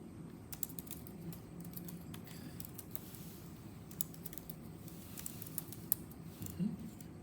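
Soft, fast keystrokes patter on a computer keyboard in an indoor workshop setting, a steady quiet clicking over low room hum, with no voices.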